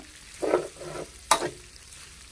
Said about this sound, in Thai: เราก็เปิดฝานะ มาคนมั่ง